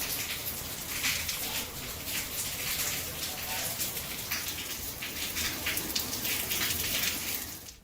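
Steady monsoon rain falls continuously as an even, hissing wash of drops, fairly close and unbroken for the whole stretch, with no voices over it.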